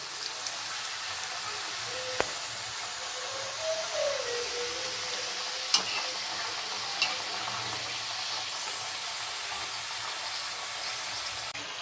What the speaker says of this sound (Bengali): লো টু মিডিয়ামে আমরা সুন্দর করে গোল্ডেন ফ্রাই করে নেবো সিঙ্গারাগুলো